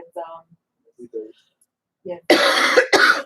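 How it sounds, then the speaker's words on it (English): Two harsh, loud coughs burst out close by, right after a few quiet murmured words. "excuse me for the coughing"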